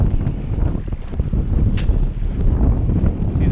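Gusty wind buffets the microphone during kitesurfing on open water with a 12 m Switchblade kite and a Duotone Spike board, a loud, rumbling roar that surges and eases without pause.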